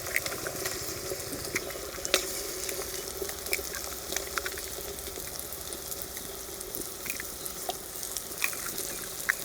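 Eggs fry with onions in hot oil, giving a soft, steady sizzle with occasional light crackles and faint stirring scrapes, heard close and fairly quiet throughout.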